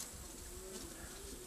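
Racing pigeons coo softly inside a loft, with a low murmuring coo rising and falling amid faint buzzing room ambience, quiet and continuous.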